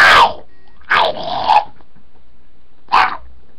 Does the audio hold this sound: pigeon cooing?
no